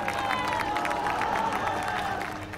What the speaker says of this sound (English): This massive roar and cheering just goes up,